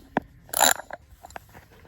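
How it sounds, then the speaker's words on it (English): A ratchet turning a 10 mm socket on the front suspension of a 1992 Lexus LS400, a few short close clicks and one brief rasping burst, quiet and alone. "One of these 10 mil and the ratchet."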